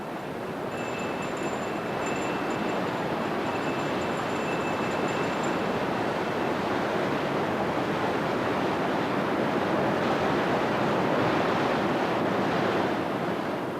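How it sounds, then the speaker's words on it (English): Sacred waterfall on a mountain pilgrimage route in Japan, a steady broad rush of falling water that stays loud and even from start to finish with no voices. "Further down, we pass a sacred waterfall"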